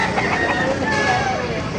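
Roosters and other chickens at a poultry market in Baliuag, Bulacan, crowing and clucking close by in a busy, steady din, with people talking throughout.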